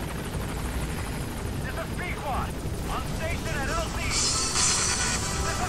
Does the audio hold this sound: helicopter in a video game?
yes